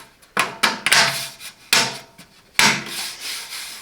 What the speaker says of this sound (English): Here at the front of the box you can remove this cover, and you can install this one, airflow cover for the power supply.